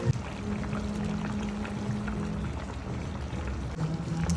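Potatoes going into a bubbling pot of Guyanese duck curry make a soft continuous sloshing and simmering sound, close by and moderately quiet, with small splashes throughout.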